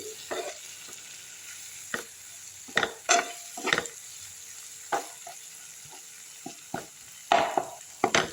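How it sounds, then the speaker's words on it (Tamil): Chili powder fries in hot oil for an okra tamarind curry, giving a faint background sizzle broken by sharp, intermittent spatula scrapes and clacks against the pan. "மிளகாத்தூள் எடுத்து போட்டுடலாம் அதில் இதையும் லைட்டாக கொஞ்சம் வதக்கிப்போம்"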